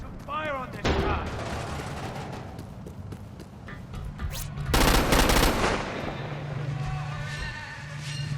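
Rapid gunfire and explosive bursts from the Xbox 360 game Crackdown 2, with loud automatic volleys and a heavy blast midway, mixed with game effects and a brief synthetic voice over ongoing combat noise.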